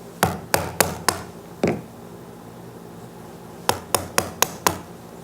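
A chisel is struck into a wooden dovetail tail in two bursts, four sharp taps, then one more, then five after a pause, each crisp and close with a short ring.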